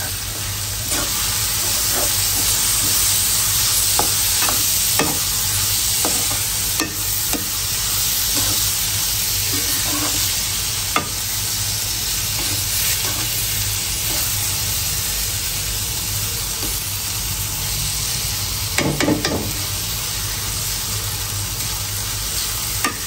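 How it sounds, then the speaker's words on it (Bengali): Spices sizzling and being stirred in hot oil in a pan while lentils are prepared for cooking, a steady close frying hiss with occasional scraping and spatter pops throughout, no talking. "এখানে হলো ডালটা রান্না করার জন্য হলো মশলা কষাইতেছি"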